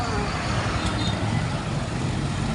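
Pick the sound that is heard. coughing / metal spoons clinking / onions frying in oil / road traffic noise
road traffic noise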